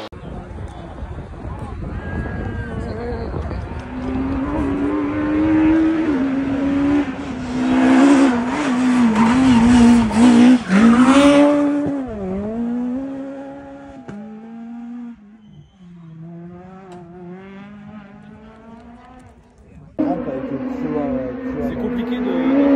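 Rally car at Rallylegend driving fast, its engine note rising and falling through gear changes with a loud, close, continuous roar, and a voice talking over parts of it.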